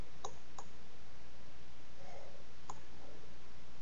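A computer mouse clicks a few times, sparse and fairly faint, over a steady background hiss with no talking.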